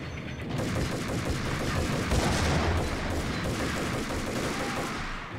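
Shotgun fire in the game Max Payne comes as dense, rapid bursts of shots and booms, loud and continuous, with no talk.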